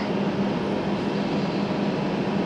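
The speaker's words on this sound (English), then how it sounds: "This is going to be, I believe, the 8:33 to Santurtzi train I'm going to catch." RENFE Cercanías commuter train in Bilbao, heard as a close, steady, loud rumble of the running train with a low hum underneath, continuous throughout and with no talking.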